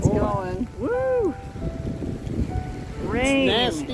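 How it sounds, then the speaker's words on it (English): Rain falls on the Oregon coast at Yachats, a constant hissing patter beneath people talking, heard steadily throughout. "It is raining."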